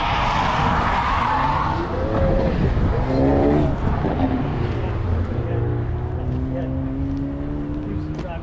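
Race cars at a race day whoosh past one after another, the engines rising and falling as they pass at moderate distance. A voice talks over the steady roar.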